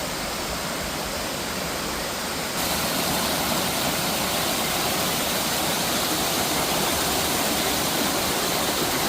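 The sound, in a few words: Chempanaruvi waterfall in Kerala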